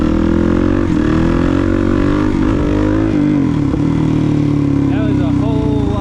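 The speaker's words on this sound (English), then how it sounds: "that was a whole lot of spinning on the back tire before it could pick it up" A Suzuki DRZ400 dirt bike revving hard on a rainy day while the rear tire spins, a loud, close engine note rising and falling in pitch. A voice talks over it near the end.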